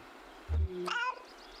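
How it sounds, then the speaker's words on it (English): A cat meows once in the video game Kentucky Route Zero, a short, clear, rising-and-falling cry after a soft low thump, over a quiet ambient background. "Alert meow."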